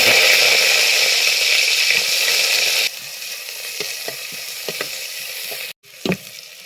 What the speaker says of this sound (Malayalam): നമ്മുടെ വെളിച്ചെണ്ണ ചൂടായിട്ടുണ്ട് ഇതിലേക്ക് നമ്മുടെ ചെറിയ ഉള്ളി അരിഞ്ഞ് വെച്ച് കൊടുക്കാം